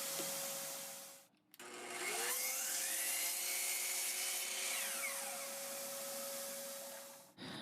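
Whining power saw cutting a 22.5-degree angle in a piece of oak: the motor spins up, the pitch dips and strains as the blade bites through the wood, then the motor winds down, loud and close.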